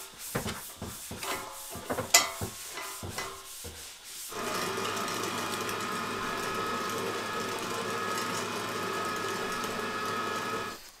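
Handling and scraping noises come first, then an electric meat grinder starts up grinding moose meat with a steady, loud motor drone that continues to the end.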